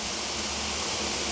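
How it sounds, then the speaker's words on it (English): A cold-water geyser in the desert fizzes and bubbles like a freshly opened soda, a steady, even hiss of effervescence recorded close up with no talking. "Hopefully you can hear that fizzing."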